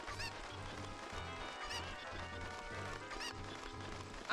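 A cucco chicken in The Legend of Zelda: Ocarina of Time squawks and clucks in repeated bursts over dense, looping game music that stays loud throughout.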